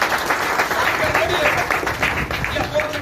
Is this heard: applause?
yes